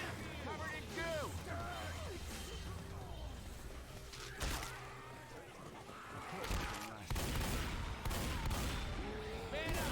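Gunfire from Left 4 Dead 2, with repeated shots and bursts mixed among shouted voices and chaotic game noise throughout.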